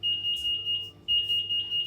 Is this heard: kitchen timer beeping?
yes